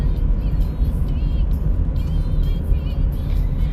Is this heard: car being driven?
yes